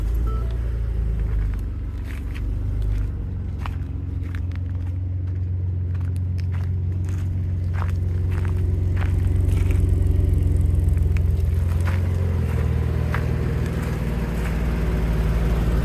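A Ford EcoBoost idles with an SPD resonator fitted in its exhaust, giving a steady deep low rumble that swells slightly, heard close with faint clicks and taps over it and no talk.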